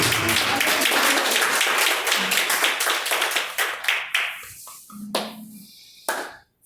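A church congregation claps, a loud, dense round of hand claps that thins out into scattered separate claps and a few last isolated ones.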